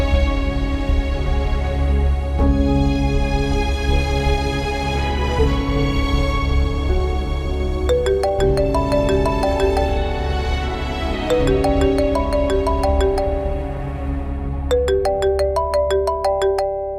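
A phone ringtone plays continuously, a melodic electronic tune repeating its bright chiming pattern over a steady low hum, loud and close, with no talking.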